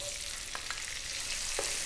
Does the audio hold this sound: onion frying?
yes